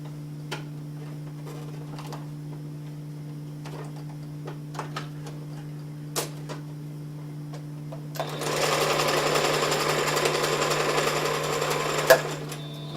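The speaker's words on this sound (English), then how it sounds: "I'm going to close it up on the sewing machine" A sewing machine starts up after a quiet stretch of clicks and hum, stitching steadily and loudly for several seconds close by.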